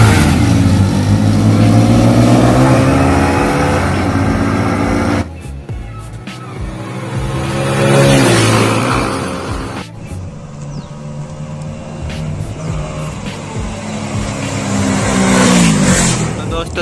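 Hero Splendor and Honda CD110 motorbikes in a drag race, engines revving hard and roaring past in repeated loud surges with a sharp cut partway through, voices talking over the noise.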